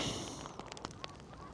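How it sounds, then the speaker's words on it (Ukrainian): Seagulls fly and scream at dawn on a mountain above a city, giving a few short, faint, distant cries over a steady wash of wind and background noise. "Чайки здуріли, літають і кричать."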